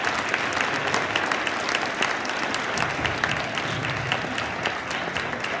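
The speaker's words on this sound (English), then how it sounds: "A warm round of applause and thanks for Dr." Steady applause from an audience thanking a guest speaker after a talk, a dense continuous wash of clapping held at an even level throughout, with no one speaking over it.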